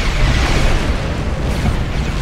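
Ships exploding in Star Trek Online space combat make a loud, continuous rumbling roar of blasts and booms with no clear break.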